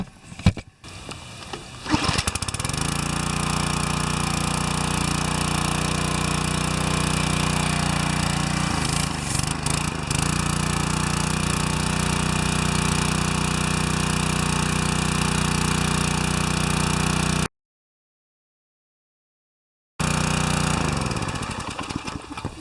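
A Briggs & Stratton gas engine drives a cart-style pressure pump, running at a steady, loud drone with no talk, then cuts out briefly near the end before resuming.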